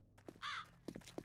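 Crows cawing in the video game 7 Days to Die: several short, fairly faint caws spaced across the moment, one of them a longer harsh rasp, with no talk over them.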